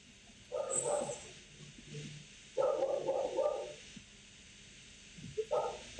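A dog barks in short clusters several seconds apart, set back at a moderate distance over a steady background hiss, with faint higher chirps mixed in.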